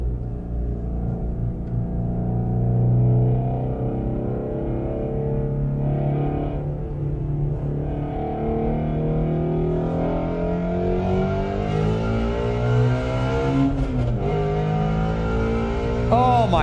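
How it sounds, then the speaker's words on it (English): A Mopar car exhaust rumbles and revs, a deep steady drone that rises in pitch as the engine climbs, with a sharper surge of revving toward the end. "This is the greatest sounding exhaust in the world."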